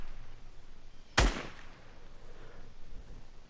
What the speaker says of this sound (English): just watch this, where the gunfire comes from